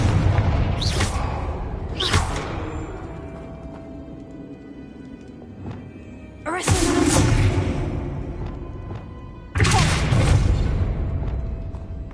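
Booming blasts from the Confringo fire spell in Hogwarts Legacy, four heavy explosions spaced several seconds apart, each with a loud sharp onset and a rumbling tail, close and dominant over quieter game ambience.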